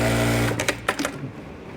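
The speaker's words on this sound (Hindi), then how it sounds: "इस फंक्शन को दबाने के बाद हमारी मशीन कहीं भी नहीं रुकेगी" A Siruba DL7200 industrial sewing machine runs with a steady close motor whir for half a second, then stops, leaving a few clicks and mechanical knocks as it settles.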